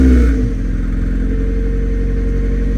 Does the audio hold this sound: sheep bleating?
no